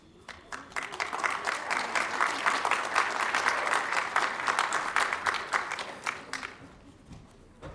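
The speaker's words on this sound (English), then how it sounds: "you can applaud as each of your students come across the stage" A graduation ceremony audience claps in a warm round of applause that swells, holds steady and then thins out into scattered claps near the end.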